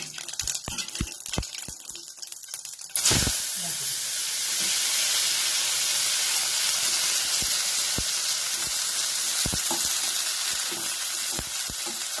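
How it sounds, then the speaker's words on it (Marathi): Cumin seeds dropped into hot oil for a fenugreek dish burst into a loud, close sizzle and hiss after a few light clicks, then keep crackling steadily to the end. "तेल चांगलं गरम झालेलं आहे. आता काय करायचं, त्याच्यामध्ये थोडेसे जिरे घालायचे"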